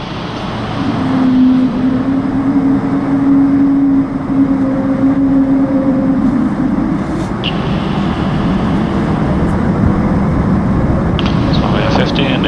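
Airbus A220-300 jet of Air Baltic starting its takeoff roll on runway 36 at Riga, a steady broad engine roar rising and holding throughout, heard from inside with brief cockpit talk over it.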